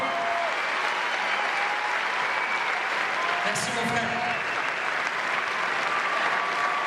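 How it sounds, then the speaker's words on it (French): Cinema audience at a film premiere gives a sustained wash of applause, with a man's brief spoken thanks heard over the clapping. "faites-leur un tonnerre d'applaudissements encore, parce que c'est eux qui vont applaudir ce soir"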